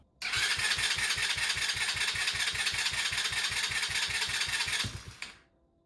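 A Chinese 125cc ATV engine, just given a top end rebuild, fires up and runs in a loud, rapid, even putter for several seconds before abruptly dying away.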